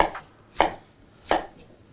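A knife chops through peeled squash on a board in two sharp, distinct strikes about two-thirds of a second apart, close and crisp with quiet between them.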